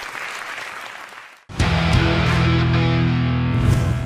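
A studio audience on a Vietnamese television dating show breaks into loud, sustained applause with music swelling underneath, following a quieter fading passage.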